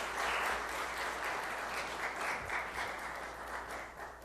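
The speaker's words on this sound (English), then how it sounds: "We all give him a round of applause." A meeting audience applauds a guest speaker in a round of steady, moderately loud clapping that holds throughout and fades slightly toward the end.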